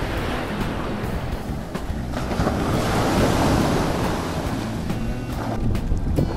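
Sea waves break and wash continuously on Bakkhali beach, loud and close with strong wind buffeting the microphone, no talk.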